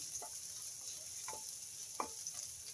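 Onions, garlic and mung bean ingredients sizzle softly in a pan while a utensil stirs them, leaving a few light scraping knocks over the steady frying hiss.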